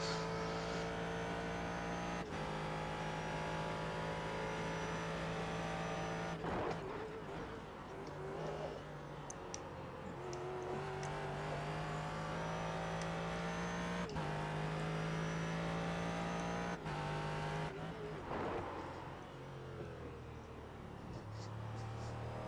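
Prototype race car in a racing video game, its engine droning steadily with shifting pitch and repeated abrupt drops as the brakes lock up into corners, continuous and fairly loud.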